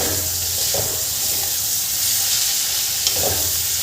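Radish leaf bhaji stir-fried in a pan, a continuous close sizzle with a couple of soft scraping stirs, no voices.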